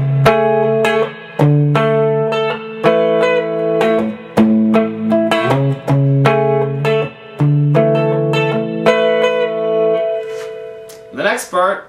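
Lead line on an acoustic-electric guitar: clear plucked notes in a steady rhythm with sustained ringing tones, some effects on the sound, and a short scrape at the end.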